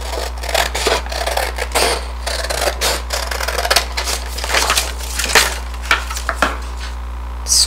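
Scissors snip and crunch through paper in repeated close cuts, irregular and crisp, while squaring off a sheet for an origami box, over a steady low hum.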